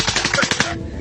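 Rapid automatic gunfire in Russia-Ukraine war footage, a loud burst of closely spaced shots in a fast rhythm that breaks off near the end.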